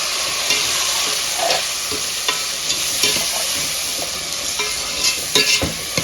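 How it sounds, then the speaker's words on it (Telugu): Chopped tomatoes sizzle in a hot tempering for hotel-style sambar, a constant close frying hiss broken by repeated scraping stirs of a spoon against the pan. "ఇప్పుడు రెండు టమోటాలు చిన్న చిన్నగా కట్ చేసుకున్నాం కదా అవైతే వేసేసుకోండి"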